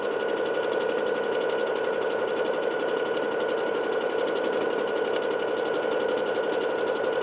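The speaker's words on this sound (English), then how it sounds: "We are again on our highest speed setting for the Bernette today, stitching out things just as fast as they can go." A Bernette B-77 sewing machine stitching at its highest speed, a loud, close, continuous rapid whir and needle clatter that holds steady without pause and with no voices.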